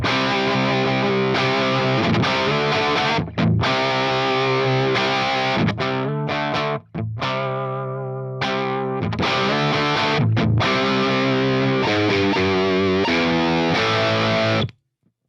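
Electric guitar driven through a J Rockett Blue Note Select overdrive pedal, gain at half, volume full, tone low, fat control up and hot switch engaged, playing warm, crunchy chords and sustained riffs close and loud with brief pauses between phrases.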